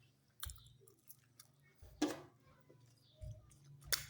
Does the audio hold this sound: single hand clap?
no